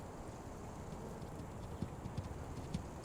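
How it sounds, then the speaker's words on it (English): Horse hooves clip-clop faintly in a few soft, spaced beats over a low, steady rumble, trotting off at a distance. "Well, there goes your horse,"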